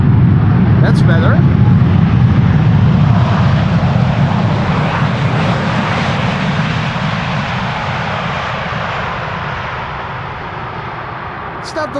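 A jet airliner rolls out after landing at Amsterdam Schiphol Airport on a sunny winter day, using light thrust reversers: a loud, close, broadband engine roar that slowly fades over several seconds.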